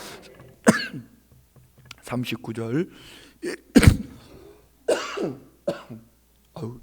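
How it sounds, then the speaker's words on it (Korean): A few sharp coughs break up a man's speech, each a short harsh burst close to the mic, with talking resuming between them. "제가 기침하니까 걱정되죠."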